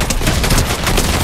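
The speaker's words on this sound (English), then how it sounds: "Boosting shotgun." A boosted shotgun fires in the Fortnite Chapter 5 Season 4 video game, giving a loud, dense burst of blasts that fills the whole short moment with no talking.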